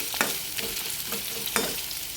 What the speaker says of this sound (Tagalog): Nakikita nyo, nagigisa ako ng sibuyas